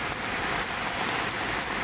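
Steady rain falling outdoors by Manila Bay, a dense continuous hiss of drops on surfaces with no talk.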